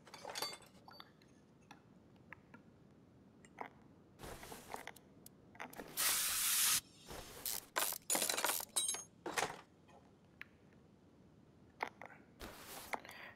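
Spray can hissing onto an engine part in the Car Mechanic 2021 game: several sharp bursts, the longest a steady hiss lasting under a second, over a low background hum with scattered clinks.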